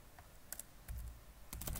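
Keys on a computer keyboard clatter in two short bursts of quick clicks, close and fairly quiet, with brief pauses between.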